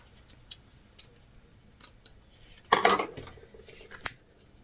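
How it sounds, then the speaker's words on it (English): Scissors snip away stray threads while sewing a fabric sling, giving several faint, sharp clicks and one longer, louder cut, close by with no talking. "we're just trimming any of our extra threads"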